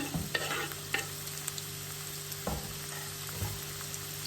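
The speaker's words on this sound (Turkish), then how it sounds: "Şöyle güzelce bir karıştıralım. soğanlarımız böyle pembeleşene kadar" Onions frying in a pan are stirred a few times, with scraping utensil strokes over a steady close sizzle and no talking.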